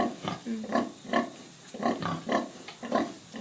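Piglets grunt while feeding, giving short, repeated nasal grunts in an uneven rhythm, close and moderately loud, with no talk.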